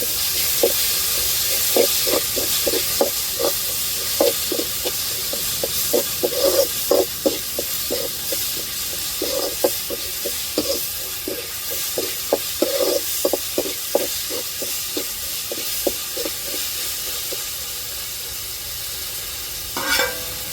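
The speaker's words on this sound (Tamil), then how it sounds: "இப்போ நம்ம அம்மியில் அரைச்சி எடுத்த இஞ்சி பூண்டை சேர்த்து நல்லா வதக்கிக்கிடுவோம்" Freshly stone-ground ginger garlic paste sautés in a pan with a steady hissing sizzle, punctuated by a rapid run of light spatula taps and scrapes against the pan, close and continuous.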